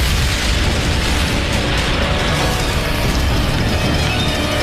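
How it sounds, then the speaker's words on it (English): A bomb blast tears through a crowd of cheering students greeting Tariq Aziz during the Iran-Iraq war, a loud, sustained roaring rumble that fills the whole stretch without a break and with no voices. "an explosion"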